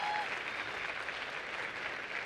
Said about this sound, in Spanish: Esta es la parte donde ustedes aplauden muy duro.